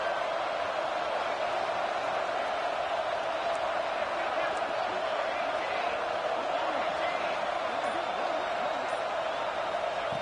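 A college football stadium crowd roars steadily during a red zone defensive stand in a Fresno State vs East Carolina game, a dense, continuous wash of noise with a commentator talking over it.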